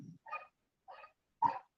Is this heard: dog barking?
yes